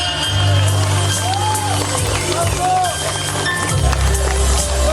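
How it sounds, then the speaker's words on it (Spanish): Steady applause and cheering from a crowd at a quinceañera waltz celebration for the chambelanes, a dense continuous wash of clapping with music playing underneath. "aplauso para los chambelanes"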